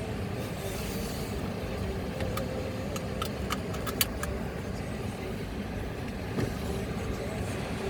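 Mercedes E 280 CDI car driving, a steady engine and road rumble heard from inside the car, with a few faint clicks over it.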